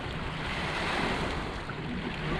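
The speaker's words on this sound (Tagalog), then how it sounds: "May alon, di ba?" Steady wash of small waves lapping continuously on Lake Ontario, with a breezy, rushing background and no voices.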